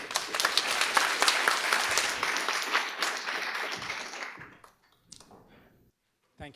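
A conference audience applauds to welcome a speaker on stage at a tech talk: full, dense clapping that thins out and fades after about four seconds, followed by near silence and the start of a voice.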